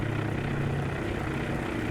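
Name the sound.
aircraft engines before takeoff, video game Task Force Admiral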